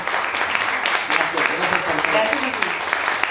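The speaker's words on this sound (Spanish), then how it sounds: "para quien pido un fuerte aplauso" A radio show audience applauds a singer with clustered, uneven clapping. Voices are mixed in and partly cover the claps.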